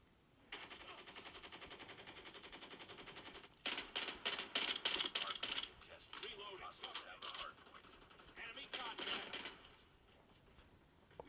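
Call of Duty Mobile running at top settings on a Xiaomi Pad Mini: a steady game tone first, then rapid bursts of automatic gunfire rattling out in quick, punchy volleys with short pauses between them.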